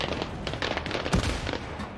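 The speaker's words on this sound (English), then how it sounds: "that's moody, isn't it? With the firework display." Fireworks display in a video game: a dense burst of crackling pops and bangs, firecracker-like and rapid, with one heavier boom in the middle and no talking.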